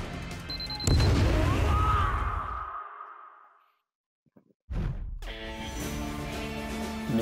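A bomb inside a box detonates in the video game Bloodroots, heard as a loud deep boom whose rumble fades into near silence, followed by a fresh burst of game sound.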